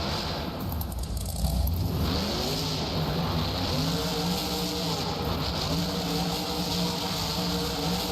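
Trucks in a BeamNG racing event driving and revving, engine tones climbing and falling in repeated sweeps over a continuous rumbling drone, moderately loud with no talk.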